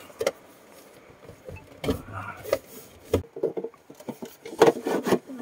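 A console box armrest being slid and pressed into place in a Suzuki S-Presso, with close plastic rubbing, scraping and knocking sounds in irregular bursts.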